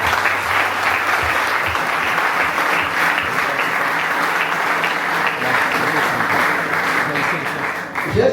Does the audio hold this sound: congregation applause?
yes